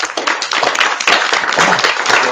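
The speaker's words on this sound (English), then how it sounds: "a little round of applause for you guys" Audience members at an academic panel on corporate criminal liability for human rights violations clap for the speakers, a close, loud scattering of individual hand claps building into brief, uneven applause.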